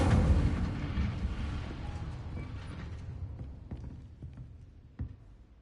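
A roaring, rumbling blast of Incendio fire magic in Hogwarts Legacy, loud at the start and then fading into a crackling tail with a few sharp pops, one louder pop near the end.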